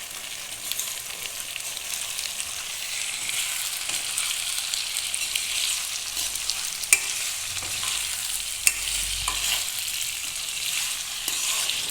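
Chicken marinated with salt, turmeric, spices, onion and garlic fries in a pan with a steady close sizzle, broken by a few sharp clicks and light stirring.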